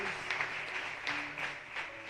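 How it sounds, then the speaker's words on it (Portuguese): Congregation applauding during a church sermon, a brief steady wash of clapping with a faint tonal hum underneath, continuous and fairly loud throughout. "Se você recebe, dá um aplauso bem forte"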